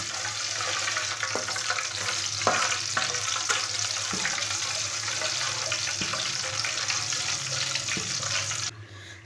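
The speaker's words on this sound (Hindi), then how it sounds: "आधा चम्मच साबुत ज़ीरा डाल लेंगे। आधा चम्मच साबुत धनिया।" Whole cumin and coriander seeds sizzle in hot oil in a home kitchen pan, a steady bright hiss with a few soft clicks, up close and alone until it cuts off near the end.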